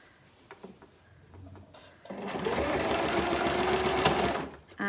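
A domestic sewing machine stitches a fabric shopping basket, a close rapid whirring run of about three seconds after some quiet handling clicks, ending in a short final burst.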